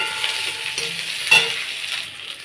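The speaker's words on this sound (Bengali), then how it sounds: "এখন পেঁয়াজ রসুনটা একটু ভেজে নেব।" Chopped onion and garlic fry in a little oil in a pan, giving a steady close sizzle with a faint stir partway through. No one speaks.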